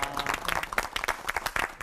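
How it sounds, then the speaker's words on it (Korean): A church audience claps for three pastors at a Korean Christian TV lecture, giving a brief burst of scattered, fairly quiet applause with distinct individual claps. "세 분의 목사님께 큰 박수 보내주시죠"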